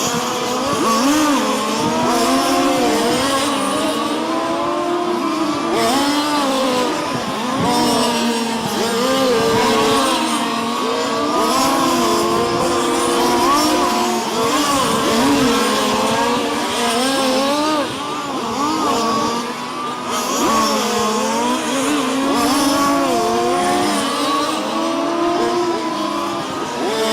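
Race cars circle a track in a live-streamed short-track event, engines droning loud and steady throughout with rising and falling revs as cars pass, no voices over them.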